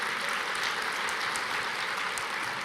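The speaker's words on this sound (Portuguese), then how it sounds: "Vamos aplaudir ao Senhor" A church congregation applauding together during a worship service, a dense, steady wash of many hands clapping at once with no voices standing out.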